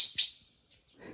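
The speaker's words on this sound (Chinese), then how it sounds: "这个老红嘴蓝雀一直在这里叫。" A red-billed blue magpie near its nest gives one short, sharp, high call, followed by near silence and a faint rustle.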